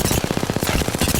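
Rapid automatic gunfire from a weapon in the battle royale video game Apex Legends, fired from the hip, a steady burst of about twenty evenly spaced loud shots with no pauses, heard alone.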